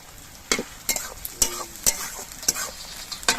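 Chopped tomato frying with onion in a pan, a soft sizzle under sharp, repeated spatula scrapes and clacks arriving roughly every half second, close and distinct.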